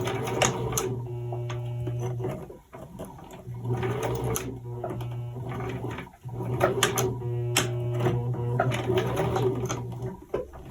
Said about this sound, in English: I had a really hard time sewing through all the layers when attaching the D-rings to the back panel of the purse